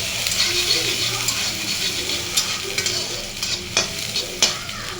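Chopped onion frying in oil for a bitter gourd stir-fry is stirred in a pan, a steady sizzle broken by scraping spoon strokes and sharp clacks, with faint talk underneath.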